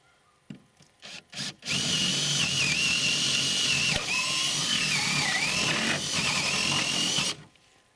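A cordless drill with a 12.5 mm bit bores through a 40 mm board, with a few short trigger bursts and then a long, loud, steady whining run of about six seconds, close up, ending abruptly.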